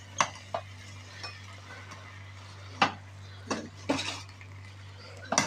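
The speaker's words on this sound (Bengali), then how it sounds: "এটা দিয়ে আমি ভালোভাবে নেড়ে চেড়ে নিব খিচুড়িটা।" Beef and vegetable khichuri being stirred in a pot with a metal spoon, a few scattered scrapes and clinks against the pot over a steady low hum, close and fairly quiet.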